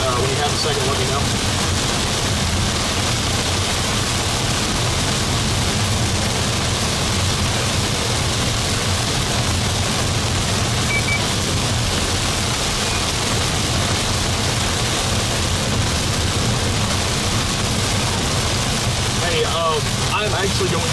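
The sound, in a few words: heavy rain falling during a Texas storm chase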